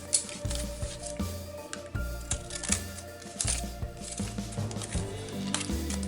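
Decorative-edge scissors snip through paper and cardstock while making file folders and journal cards, giving a run of close, crisp cutting crunches under soft background music.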